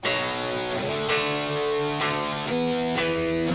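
A distorted electric guitar playing a main riff, sustained power chords struck roughly every second with slides between positions, loud and steady throughout.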